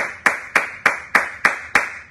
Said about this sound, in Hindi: उनके लिए भी पूरे दिल से जोरदार तालियां।